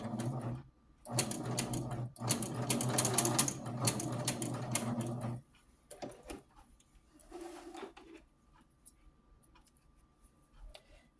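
A sewing machine test-stitches a pant hem in two loud, steady runs of rapid needle clatter separated by a short pause, then stops, leaving faint handling clicks and rustles.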